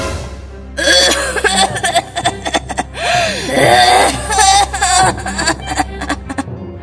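A woman coughs loudly and repeatedly in harsh, strained bursts, some breaking into gasping, wheezy sounds, with strong music-like tonal backing underneath throughout.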